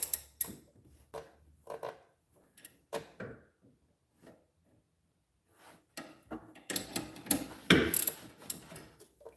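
A ratchet tightens a front strut bolt on a 2012 Chevy Malibu LT. Scattered clicks and short ratcheting bursts come first, then a denser, louder stretch of metallic mechanism clatter close by.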